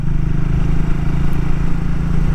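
A motorcycle rides along a mountain road, its engine giving a steady, loud, close rumble with a constant low pulse and some wind rush, no voices.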